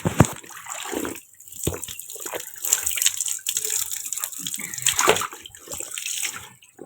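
Water gushes and splashes steadily from a pipe or tap, a continuous rushing flow with uneven surges, fairly close.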